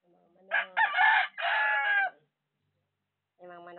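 A rooster crows loudly nearby in a long drawn-out call, followed after a pause by a shorter cluck or crow from a chicken.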